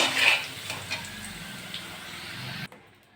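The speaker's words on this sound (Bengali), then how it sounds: "আলুটা ভালো করে ভেজে নিয়েছি, আমি এবার তুলে নেব।" Potato pieces frying in hot oil for a jackfruit and prawn curry, a steady close sizzle with light stirring clinks that cuts off abruptly near the end.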